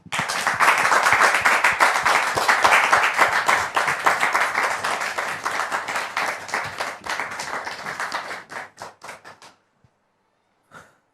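A studio audience claps for an arriving guest, loud and close, the dense applause gradually thinning into a few scattered last claps before falling silent.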